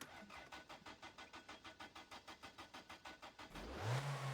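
In the video game My Winter Car, a car engine cranks with a steady rhythmic churning for several seconds, then catches and starts, rising into a revving roar; quiet overall with no talking.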